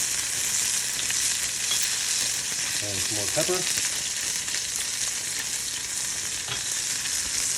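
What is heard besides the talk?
halibut fillet searing in hot pan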